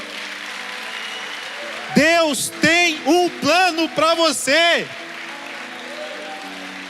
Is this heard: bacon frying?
no